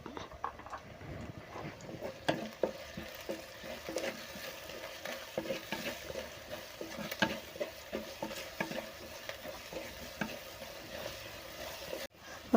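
Onion, green chili, ginger, curry leaves and garlic sautéing in a pan for a fish curry, giving a steady low sizzle with scattered scraping and stirring clicks, faint and continuous with no talking.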